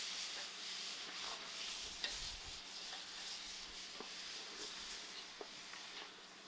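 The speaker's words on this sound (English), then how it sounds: "I'm going to give this a good mix and leave this to fry out" Mutton frying with masala in a pot over an outdoor fire, stirred with a steady soft scraping over a constant sizzling hiss, with a few small clicks along the way and no voices.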